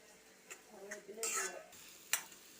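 A spoon scrapes and clinks in a pan as ground black pepper, Kashmiri chilli and turmeric powders are stirred in for a Kerala fish pollichathu, quiet, irregular strokes over a faint sizzle.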